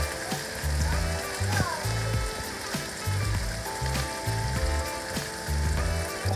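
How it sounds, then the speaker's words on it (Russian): Chanterelle mushrooms fry with onion and bacon in a pan, giving a steady, fairly quiet sizzle and crackle throughout, with low clinks and thuds from utensils at irregular intervals in the background. "Жарим наши лисички с лучком, обжариваем бекон"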